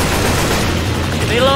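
Gunfire in the zombie shooter Left 4 Dead 2, a loud, dense, unbroken rattle of shots over a brief stretch, with a faint whining tone rising near the end.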